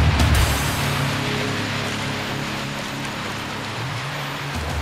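Steady rain falls outdoors near the Center for Performing Arts in San Jose, a dense, even hiss of drops hitting surfaces throughout, fairly loud and continuous with a faint low rumble beneath and no talking.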